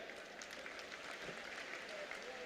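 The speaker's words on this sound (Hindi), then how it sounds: "सभी साथियों से कहूंगा ताली बजाकर उनका वेलकम करें" Audience clapping welcomes a politician at an outdoor rally in Fatehabad, a faint, distant, continuous patter of applause from a crowd, with speech mixed in.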